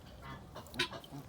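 A friendly pet duck honks once, faint and brief, alongside soft splashing as it swims in an outdoor pool.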